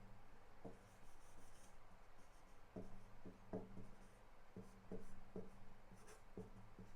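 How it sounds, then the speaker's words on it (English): A pen signs on a guitar, giving close, scratchy strokes and short rubbing bursts in an uneven rhythm over faint background noise. "But Ronny, I want you to sign this guitar"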